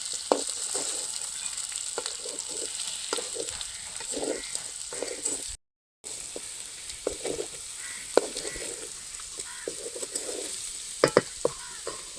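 Chicken curry being stirred in a pan as a dry-roasted cumin and crushed garlic powder is mixed in; scraping stir strokes recur over a steady sizzle with no talk, broken by a brief silent gap midway.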